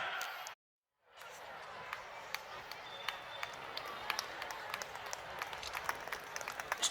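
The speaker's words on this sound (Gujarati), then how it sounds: "ખૂબ તાળીઓના ગડગડાટથી વધાવીએ" Applause at an honouring ceremony at a civic gathering, dense sustained clapping from a crowd that fills the room after a brief silent gap, fairly distant and steady.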